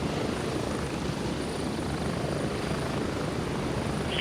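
A helicopter ride in the video game Gray Zone Warfare, with a steady, loud, close rotor and engine roar that holds unbroken throughout, with no voices heard.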